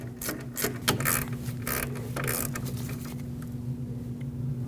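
Ratchet clicking in quick bursts while tightening a brake caliper bolt on a 2006-2015 Lexus IS250 rear brake, fairly close, over a steady low hum.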